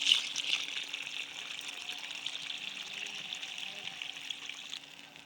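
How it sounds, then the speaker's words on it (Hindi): About a litre of water is poured into a simmering beef and onion curry, a steady trickling rush that holds level for several seconds and then fades, with no talking over it. "अब हम इसमें तकरीबन 1 लीटर पानी डालेंगे"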